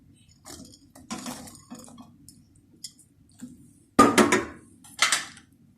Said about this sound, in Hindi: अब मैं जलेबी डालने लगी हूँ।